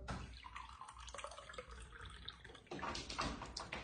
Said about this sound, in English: I'm going to go ahead and put this zero filter water in this cup.